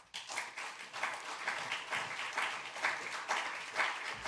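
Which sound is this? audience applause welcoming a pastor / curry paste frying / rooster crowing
audience applause welcoming a pastor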